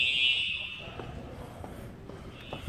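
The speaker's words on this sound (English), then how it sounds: "Fire alarm." A shrill electronic school fire alarm tone blares briefly at the start, then fades into a quieter hallway with faint distant sounds.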